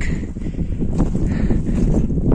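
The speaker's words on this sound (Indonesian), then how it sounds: "Anginnya sangat kencang, jadi kita pelan-pelan saja." Strong wind roars and buffets continuously near the summit of Mount Kerinci, a dense low rumble of gusts pressing on the microphone with no pause.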